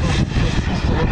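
A military attack jet at the IMAA air show in Montluçon-Guéret gives a steady, loud broadband roar as it flies past, with a voice talking over it.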